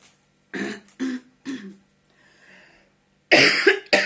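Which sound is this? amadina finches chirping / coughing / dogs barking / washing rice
coughing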